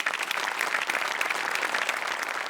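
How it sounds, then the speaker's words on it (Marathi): A studio audience at a Marathi comedy show breaks into loud, sustained applause, a dense, even wash of clapping filling the room with no voices over it. "एकदा सचिन मोटेसाठी जोरदार टाळ्या."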